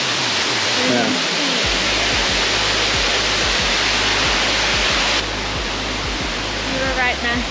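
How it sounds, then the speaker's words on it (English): Boyana Waterfall in Bulgaria roars as a steady, loud rush of falling water, with some voices faintly heard beneath the continuous wash. "That's the waterfall."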